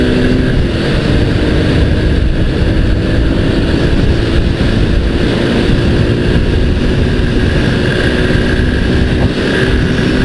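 Honda XRE 190 motorcycle on the move, a loud continuous engine drone mixed with heavy wind rush and road noise, steady throughout with no speech.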